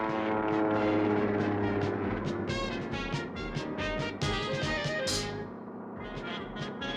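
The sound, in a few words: airplane doing an inside loop in stunt flight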